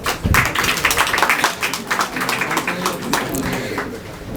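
Audience applause at an open mic poetry night in Ranchi, Jharkhand: steady, close, dense clapping that runs without a break and slowly fades, with a voice heard faintly under it.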